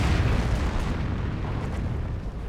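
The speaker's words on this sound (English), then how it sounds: "Calliope Rocket Barrage running on in" Calliope rocket barrage detonations in Company of Heroes, a continuous rumbling roar of overlapping explosions that is loud at the start and slowly eases, with no pause between hits.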